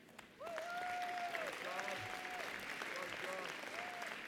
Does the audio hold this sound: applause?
yes